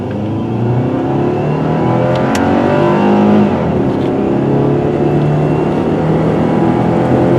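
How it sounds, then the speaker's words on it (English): A 2007 Subaru Forester X AWD with a 2.5-litre four-cylinder engine accelerates at full throttle, its engine note climbing loud and close from inside the car, with a brief shift around the middle before it pulls on steadily. "I'll floor it now."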